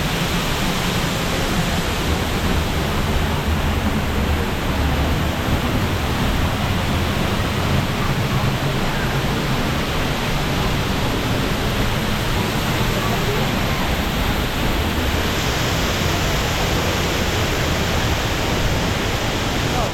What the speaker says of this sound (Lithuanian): Tai va, pabuvom prie šito krioklio